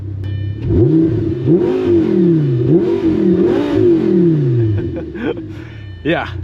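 Lamborghini Gallardo V10 with straight pipes starting up, a loud cranking catch into repeated sharp revving blips that rise and fall, then settling into a rumbling idle with a final quick rev, close by, with a brief voice.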